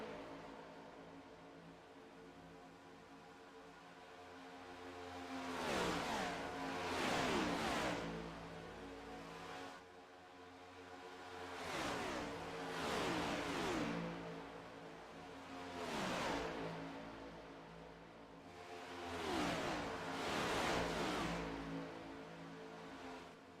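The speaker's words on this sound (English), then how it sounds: "love the sound of the cars" Stock race cars roaring past on the Daytona oval in a sim racing game, three passes, each a loud rising and falling wave of several engines that swells, peaks and fades away with a steady drone between.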